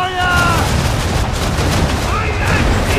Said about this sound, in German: Der war sehr gut, der Schuss.